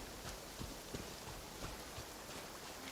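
Steady rainfall in the video game Genshin Impact, a dense continuous hiss of drops with faint pattering spikes, held at an even level throughout with no talk.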